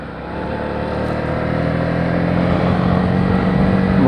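Honda CB125R motorcycle engine droning steadily on a road ride, loud and close with a constant engine tone that rises gradually in level, wind rush layered over it and no voices.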